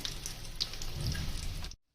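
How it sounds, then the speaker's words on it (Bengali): Steady crackling of Bombay duck (lote) fish chops frying in oil over low heat, close by with scattered pops, cutting off abruptly into silence near the end. "অল্প আঁচে চপগুলোকে ভালোভাবে ভেজে নেবেন"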